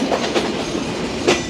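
Simanta Express train pulling out of Joypurhat railway station, a steady close rumble of moving carriages with faint rhythmic wheel clicks, no voices.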